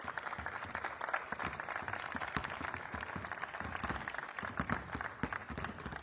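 Audience applause at a youth basketball coaching conference, steady dense clapping from a crowd continuing throughout at moderate distance.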